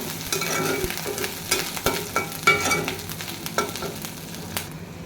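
Water lily stems fry in oil with garlic and panch phoron, a soft continuous sizzle broken by scattered scraping stirs and clicks of a spatula, close by with no voices.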